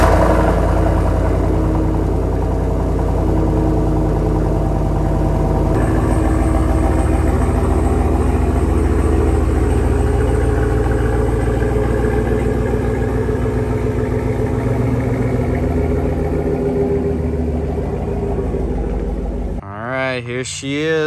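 A 2019-2022 Chevrolet Silverado pickup idles and rolls out of a garage, a steady close engine rumble with a slight rise in revving midway, while a person talks over it; a brief clatter sounds at the end.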